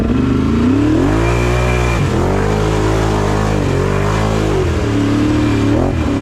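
Four-wheeler ATV engine revving and easing off while being driven gently for the first time, a loud, steady close-up drone with rising and falling pitch.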